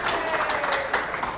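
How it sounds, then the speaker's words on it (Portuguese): Audience applause at a museum inclusion campaign event, a short steady burst of clapping from a crowd at moderate loudness, with no speech over it. "Palmas para Mariana"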